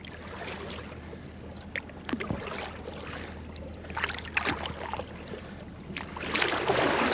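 A boat passes on open water, heard from a kayak as a broad wash of water and hull noise that swells toward the end, with no talking.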